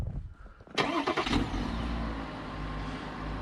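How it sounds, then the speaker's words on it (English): A Chevrolet 3.0-liter Duramax diesel cold-started by remote start: a quiet lead-in, then the starter cranks briefly, the engine catches with a short rev and settles into a steady, fairly quiet idle. "I'm gonna do a cold start on 3-liter Duramax"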